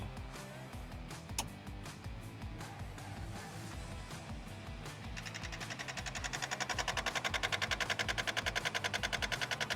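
Electric radiator cooling fan for an SN95 Mustang, spinning up with a rising whir that turns into a rapid, evenly pulsing buzz in the second half, getting louder and steadier as it gains speed.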